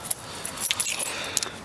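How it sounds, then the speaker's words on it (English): Keys to a Honda Integra jangling close by, a quick bright metallic rattle of several small clinks lasting under two seconds, with no talk. "Keys."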